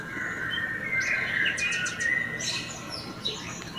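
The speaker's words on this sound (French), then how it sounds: "Dans le nid, on trouve un oiseau, un seul, un oiseau tout petit." Small bird chirps for a sparrow in a children's story, a quick run of high tweets over a soft background hiss, clear and fairly close, with no speech.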